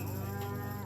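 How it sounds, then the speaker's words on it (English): A cow in a cattle pen gives a loud, close, sustained moo that holds steady for nearly a second with no talk over it. "There's one cow in here that really don't want to play the game."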